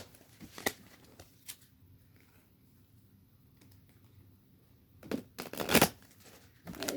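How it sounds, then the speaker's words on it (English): Tarot cards are shuffled by hand: soft papery rustling with scattered sharp clicks and flicks, a quiet stretch in the middle, then louder riffling bursts near the end, close up. "So I'm going to start by just kind of shuffling all my cards."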